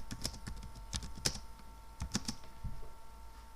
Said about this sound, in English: let's type here, for example, please type